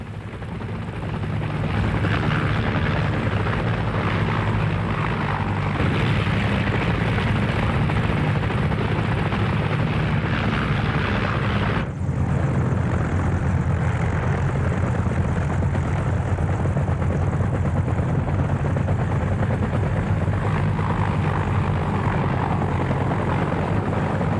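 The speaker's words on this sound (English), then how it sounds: "Marine UH-34 Seahorse helicopters began to fly operations from Soc Trang and Da Nang." Marine UH-34 Seahorse helicopters fly overhead with a steady, loud rotor and engine roar that fills the whole stretch, with no pause in the drone.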